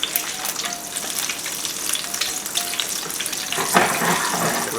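Eggs fry in oil in a pan with a steady, close sizzle that crackles continuously, the pan shifting now and then to move the oil around.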